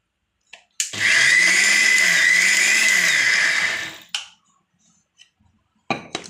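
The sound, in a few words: mixer grinder coarsely grinding coconut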